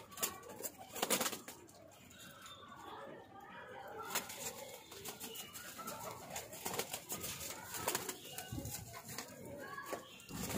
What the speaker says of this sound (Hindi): परों के बहुत अच्छे कबूतर हैं।